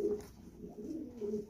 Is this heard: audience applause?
no